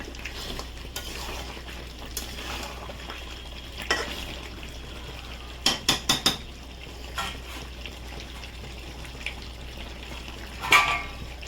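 Food in a pot is stirred over a low gas flame, with soft scraping and faint sizzling, then a quick run of metallic clanks and a later clatter as a lid goes on. No one talks.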